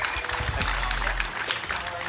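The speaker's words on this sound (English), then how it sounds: "Sheldon Haudenschild, give him a round of applause." Raceway crowd at Knoxville Raceway applauding sprint car driver Sheldon Haudenschild during the Knoxville Nationals, a steady wash of clapping and crowd noise filling the whole stretch at moderate loudness.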